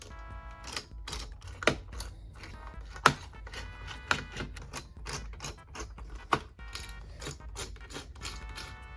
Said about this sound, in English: this time I'm just going to remove the Torx screws